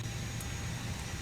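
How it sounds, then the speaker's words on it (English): Aerosoft A320 engine spool-up inside a flight simulator game, a steady broadband jet roar with a low rumble that stays even and loud through the short stretch. "So engine 2 is starting."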